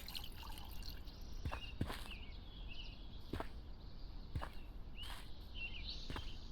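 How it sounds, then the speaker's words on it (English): Drinking water in the video game Fantasy Craft, heard as a few soft, faint liquid drips and trickles spaced over several seconds, with no talking. "And just go in here and drink some water."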